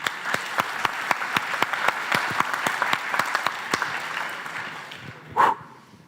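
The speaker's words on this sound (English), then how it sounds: "once again, big applause for this guy" Audience at a Java conference talk applauds in a steady burst of clapping that fills the hall, with a brief louder bright sound near the end.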